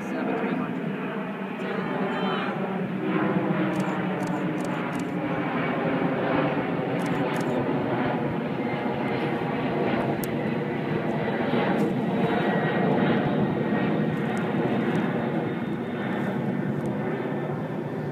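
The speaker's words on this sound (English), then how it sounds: "You guys are viewing American 767-300." An American Airlines Boeing 767-300 jet at JFK airport gives off a steady, broad engine roar that holds throughout, while people talk over it.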